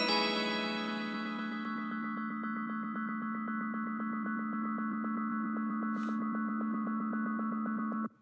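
A short synth melody fed through an Echo delay plugin with feedback past 100% builds into a dense, ringing wash of repeating chimes that pulse steadily and sustain loudly before cutting off abruptly.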